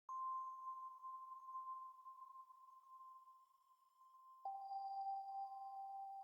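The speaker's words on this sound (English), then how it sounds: "So I've got a bell sound that comes in." A soft, pure bell-like tone rings and slowly fades, then a second lower tone enters and sustains, quiet and airy.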